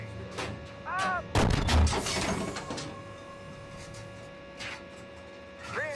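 A single heavy tank cannon shot booms out on a tank gunnery range in the simulator Steel Beasts Pro, loud and close with a rumbling tail, amid faint chirping electronic tones.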